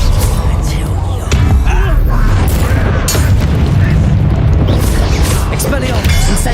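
A Confringo fire spell blasts in the Hogwarts Legacy video game, heavy booming explosions rolling into a continuous loud, rumbling barrage of game battle effects that lasts throughout.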